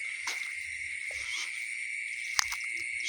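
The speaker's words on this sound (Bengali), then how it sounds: "চারিদিকে ঝিঝি পোকার ডাক," Crickets chirping at night in dark open wetland, a steady high insect trill throughout, with a few faint frog or other calls and a brief sharp tap.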